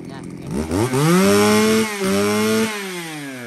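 A used Japanese-import chainsaw pull-starts and runs, its engine sputtering to life, then revving loud and steady with pitch swings as the throttle rises and drops, close by.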